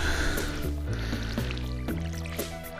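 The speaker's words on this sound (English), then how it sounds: "is I'm gonna water a good section of it." Watering crops with a watering can in Stardew Valley gives repeated soft splashy game effects in a quick steady rhythm over background music.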